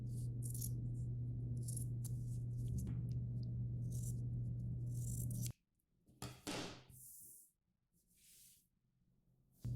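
Scissors trim fabric while a shirt is being sewn, a few close, crisp snips and rattles, first over a steady electrical hum that then cuts out, leaving quieter scattered cuts.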